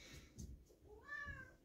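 A cat meows a few times, with rising and falling tonal calls that stand out over a low household background.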